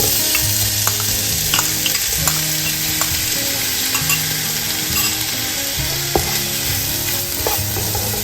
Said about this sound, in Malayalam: ജസ്റ്റ് ഒന്ന് ഇളക്കി കഴിഞ്ഞിട്ട് അതിനകത്തോട്ട് കൊഞ്ചിടാം.